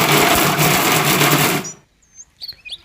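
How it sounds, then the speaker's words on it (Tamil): A mixer grinder grinding boneless, cleaned mutton for mutton kola balls roars loud and dense for about a second and a half, then cuts off abruptly, leaving faint clinks and small knocks. "அந்த சுத்தம் செஞ்சு வச்ச கறியை மிக்சரில் போட்டு நல்லா அரைச்சி எடுத்துக்கலாம்"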